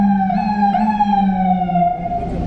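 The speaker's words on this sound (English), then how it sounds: "the big chirp of the siren" Emergency vehicle siren on a street in Jackson Heights, Queens, a loud close wailing tone that holds then slides down, with traffic rumble beneath.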